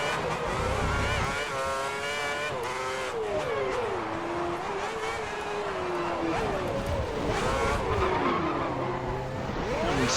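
A race car spins at the Brazil circuit in a racing game, its tires squealing in long wavering sweeps over a continuous engine drone, with the skid pitch bending up and down throughout.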